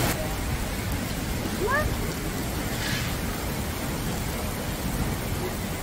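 A sudden heavy downpour falling outdoors, a dense, steady hiss of rain that fills the whole clip, with a brief bird chirp briefly audible over it.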